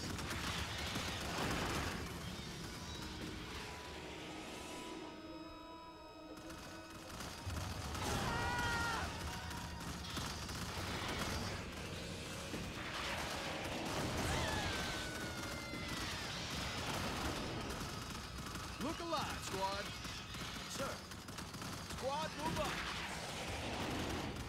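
Video game battle in Starship Troopers Terran Defense, dense with rapid gunfire, plasma blasts and explosions layered continuously, with voices giving radio-style commands over the combat.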